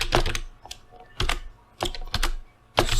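Python code typed on a computer keyboard produces clustered bursts of clicky keystrokes with short pauses between groups, close and distinct.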